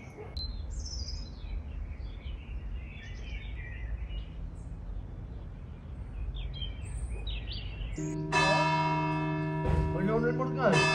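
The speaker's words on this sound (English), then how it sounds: "This is a very sad moment because the bell is tolling" A church bell tolls in the Tuscan hills, a ringing metallic strike with long resonant overtones arriving after a stretch of birdsong and outdoor ambience.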